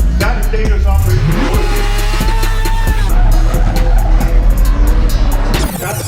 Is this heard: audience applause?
no